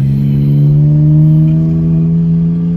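A car with its muffler deleted, in sport mode, accelerates in first gear, giving a loud, steady low engine drone with strong harmonics that holds close by throughout.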